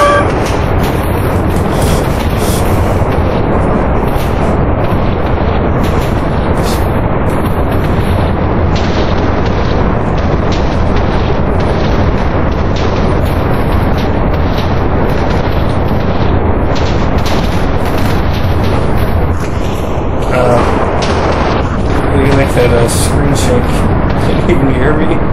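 Explosive charges detonating in a video game, heavy booming blasts and rumble running continuously and loud throughout, with a voice talking over them.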